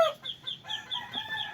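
A rooster gives a few short, close clucks in quick succession, with no talk over it.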